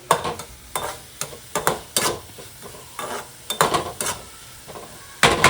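Capsicum pieces cooking in oil in a pan are stirred with a spoon, giving repeated scraping clatters in irregular bursts over a soft sizzle, close and fairly loud, with no talking.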